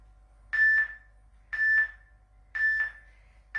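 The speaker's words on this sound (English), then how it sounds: "You'll hear the beep." Electronic workout timer beeps repeat about once a second, each a bright tone with a short double pulse, clear and prominent over a faint low hum.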